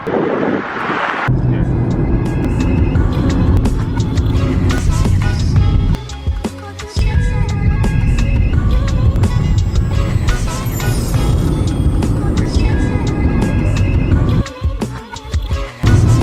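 A packed Volkswagen Polo rattles and roars at road speed on a Namibian road trip, a loud continuous drone with clattering bumps and brief dips, while people talk intermittently over the noise.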